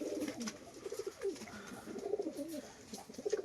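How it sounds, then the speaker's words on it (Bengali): Kamagar pigeons, red-eyed birds kept for sale, coo softly in low repeated throaty phrases, fairly faint against a steady background hiss, with no voices. "এখানে দুটো কামাগার পায়রা রয়েছে দেখুন"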